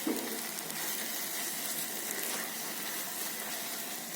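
Sweet corn roasting in a pan for kheer, a soft, continuous sizzle and crackle close by, steady throughout with no talking.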